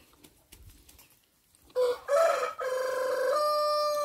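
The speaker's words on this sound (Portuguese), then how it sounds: "Galo cantando no terreiro." After a quiet moment, a rooster crows loudly and close by in a farmyard, one long drawn-out call that rises and holds.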